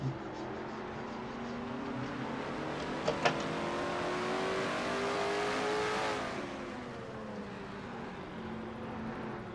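Onboard race car engine in a racing video game, revving steadily with pitch sweeping up and down through a corner, loud and continuous, with a couple of brief clicks and no voices.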